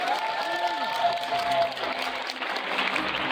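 Crowd clapping at a Bi Pride London 2023 event, a steady wash of applause that holds evenly throughout, with a brief whistle-like tone rising above it early on.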